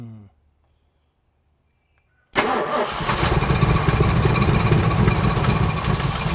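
Near-silence, then an old 390 V8 engine with a bad coil abruptly cranks and catches, settling into a loud, uneven, rumbling idle.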